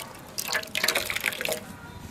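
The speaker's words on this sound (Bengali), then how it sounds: "শাকটার এমনি করে জলটা ফেলে দেবো। দেখুন কতটা জল বেরিয়েছে।" Water is poured off boiled chickpea greens, a short splashing, trickling flow close by that comes in two quick pours.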